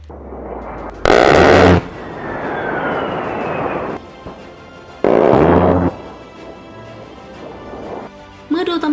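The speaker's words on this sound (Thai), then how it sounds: "อาวุธพื้นฐานของ A10 คือปืนใหญ่อัตโนมัติแบบ Gatling ซึ่งให้เสียงที่เฉพาะ" An A-10's GAU-8 Gatling autocannon fires in loud, short ripping bursts of about a second each, three separated by pauses, under a voice narrating.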